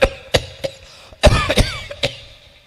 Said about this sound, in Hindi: रात ने खांसी को लोर उठ गो।